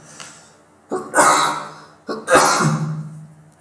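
Two harsh coughs in quick succession, each preceded by a sharp intake of breath, loud and close to the microphone.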